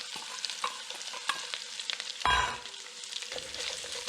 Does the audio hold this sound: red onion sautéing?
yes